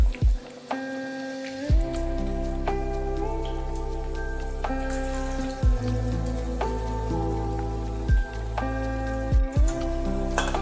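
Onion fritters (peyaji) sizzle and crackle in hot frying oil, a steady spattering hiss heard under prominent background music with recurring tonal phrases.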